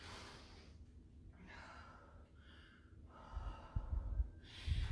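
Heavy breathing during a workout cool-down: slow, deep breaths, sharp inhales and sighing exhales, close and fairly quiet, growing louder toward the end.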